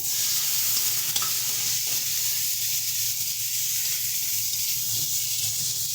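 Chopped tomato frying and being stirred in a pan with pointed gourd and prawns in a home kitchen, a continuous hiss and sizzle with faint scraping of the spoon, no voices.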